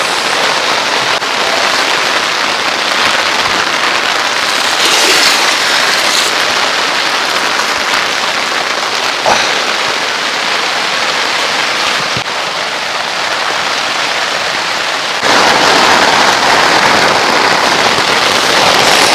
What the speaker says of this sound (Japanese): 雨音で音拾えてるかわかんないですけど